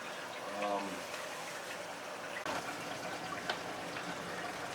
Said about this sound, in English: We're going to go ahead and dip some more water in here once again.